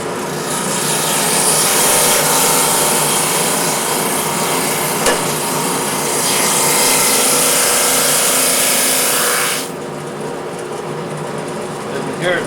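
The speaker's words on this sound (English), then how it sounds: "you see now how unevenly it's starting to sand that down" A cross-laminated wooden bowl base is pressed hard onto sandpaper on a power sander, giving a loud continuous abrasive whir and rasp that cuts off sharply near the end, leaving a quieter motor hum.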